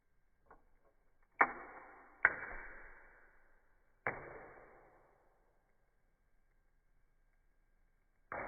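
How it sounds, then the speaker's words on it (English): A few sharp snapping clicks from a Lego stud shooter toy firing, each followed by a brief rattling decay, spaced a second or two apart with quiet between them. "let's just shoot off the stud shooters so I don't forget"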